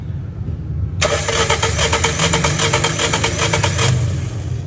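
A car engine cranks during a cylinder compression test, giving a loud, rapid, evenly pulsing starter churn for about three seconds before it stops, with no voices.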